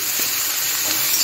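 Turmeric and salt being stirred in a hot frying pan give a steady, close sizzle with light scraping, continuous through the short moment and with no voices.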